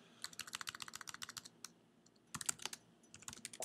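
Rapid typing on a computer keyboard while entering a to-do list item, with a quick burst of clicking keystrokes, a brief pause, then more bursts, fairly close and alone with no talk.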